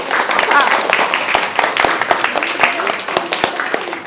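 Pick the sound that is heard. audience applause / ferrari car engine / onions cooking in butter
audience applause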